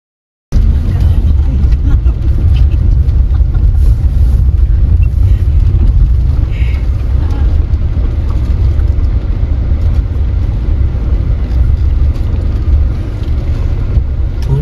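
A car rolls steadily through a stretch of water on a road near Rishikesh, with a continuous loud low rumble and splashing wash, the engine droning close throughout.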